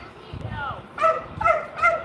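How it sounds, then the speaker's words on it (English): A dog barks three times in quick succession at moderate distance, sharp yaps spaced about half a second apart over a soft steady background. "That's someone else's dog."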